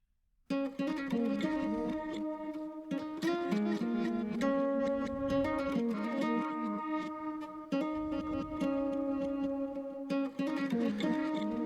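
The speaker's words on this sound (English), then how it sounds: "We're going to activate Crystallizer." Guitar runs through the Soundtoys Crystallizer effect on its default patch. The result is a dense, shimmering, echoing wash of plucked notes that sustains continuously after a sudden start, with no voices.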